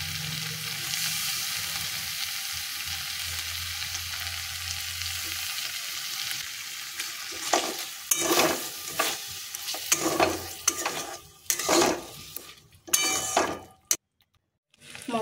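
Potatoes for aloo dum frying with spices and kasuri methi in a pan, a continuous sizzle, then a run of irregular scraping stirs against the metal that grow louder before a brief pause.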